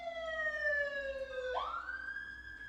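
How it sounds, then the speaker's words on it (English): A wailing siren sweeps up and holds, fairly loud and steady, as an emergency vehicle passes outside. "Sorry guys, that's a siren."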